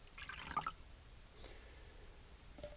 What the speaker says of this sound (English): Here comes 50 mils of water.